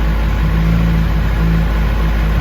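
Cold start idle of a 2021 Kawasaki ZX-10R motorcycle with an open exhaust and only the cat, a loud, steady, rumbling engine drone held close without revving.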